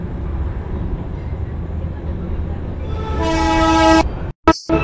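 A Darjeeling toy train rumbles along a track cut into the mountainside, the noise building until a loud horn toots near the end, followed by brief abrupt breaks in the sound.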